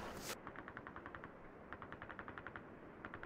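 Suppressing machine gun fire in the World War II shooter Call of Duty 2, heard as steady bursts of evenly spaced rapid shots after one loud blast, stopping briefly mid-clip, then resuming, close and dominant.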